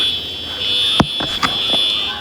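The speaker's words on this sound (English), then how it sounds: "Bro, the fire alarm's off." A fire alarm sounds continuously indoors, its steady high-pitched tone running through the whole stretch while people talk and a few sharp knocks land over it.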